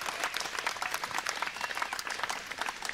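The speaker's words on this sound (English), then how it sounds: "We got a clap here. Yeah, I'll take the clap." Canned applause from a soundboard, a steady wash of many hands clapping that runs evenly for a few seconds at moderate level, with no voices over it.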